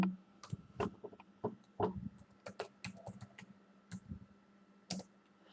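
Fingers tapping out a Google search on a computer keyboard, a quiet, close, irregular run of key clicks in small bursts with short pauses, no talking.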